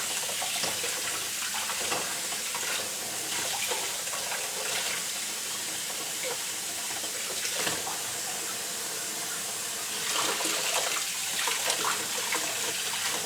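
Running tap water rinses the roots of a grocery-store Phalaenopsis orchid being repotted from moss to bark, a steady close splashing stream with no talk.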